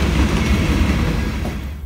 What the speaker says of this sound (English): Here we see an empty grain train out of Maysville, Georgia, headed back north for another load.